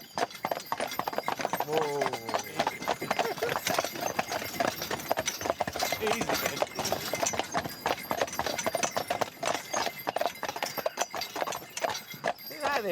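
Horse hooves trotting up a hill in Cumbria, a quick, rhythmic clip-clop close by with a brief whinny-like sound early on, while someone speaks briefly over it.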